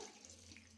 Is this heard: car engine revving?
no